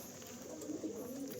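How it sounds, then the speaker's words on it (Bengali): Feather-footed pigeons coo in a low, steady murmur, close by and faint, with no other sounds standing out. "আমার খুব পছন্দের পায়রা এই মোজাওয়ালা পায়রাগুলো"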